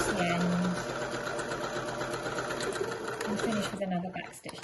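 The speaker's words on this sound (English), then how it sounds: "put my foot back down and do another back stitch" A sewing machine stitching a fabric scrunchie, a steady fast mechanical whir running almost throughout, with a voice talking over it and the motor easing off near the end.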